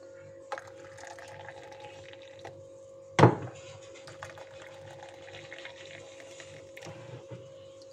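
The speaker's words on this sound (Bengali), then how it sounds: "তারপরে বাকি জলটা দেব। বাকিটা ঢেলে দিই।" Water is poured into a container, a short splashing gush that stands out against a steady low mechanical hum, with quiet faint clicks around it.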